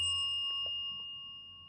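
A small bell gives a single clear ding that rings on with a steady, slowly fading tone, with faint soft knocks in the quiet room behind it.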